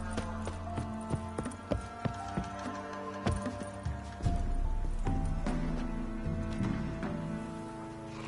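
Geralt's horse Roach galloping in The Witcher 3, steady rhythmic hoofbeats close by under a continuous game music bed, with a louder rumble joining partway through.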